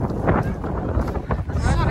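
Wind buffets the microphone with a steady low rumble throughout, while people talk close by.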